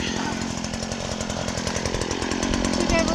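A Stihl HT-56c pole saw runs close by in a continuous buzzing two-stroke drone that rises slightly toward the end, with voices faintly underneath.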